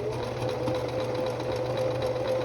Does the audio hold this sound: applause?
no